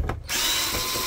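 A power screwdriver whines steadily for about a second while taking screws out of an HP ENVY 5055 printer. It is close and runs alone.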